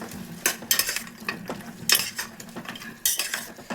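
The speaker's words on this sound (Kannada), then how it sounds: "ಒಂದು ಸ್ವಲ್ಪ ಕಾಳೆಲ್ಲ ಎಣ್ಣೆಲಿ ಫ್ರೈ ಆಗೋ ಗಂಟ ತಿರ್ಗ್ತಾ ಇರಿ." A spoon scrapes and clinks against a pan while stirring whole spices, salt and turmeric frying in oil for mutton leg soup, in several sharp metallic bursts over a low sizzle, close and without talk.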